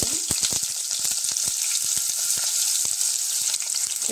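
Onions frying in hot oil, a bright, constant sizzle with many quick popping crackles scattered throughout, close and fairly loud, with no talking.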